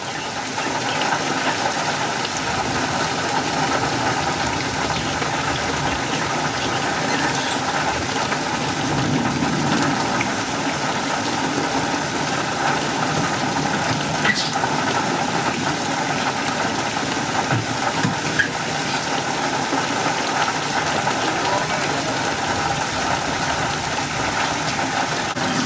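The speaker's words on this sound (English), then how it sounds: "with as heavy as this rain is" Heavy rain pours steadily during a tornado storm with hail, a dense, constant hiss and roar that never lets up, heard close from inside a house and with no one speaking.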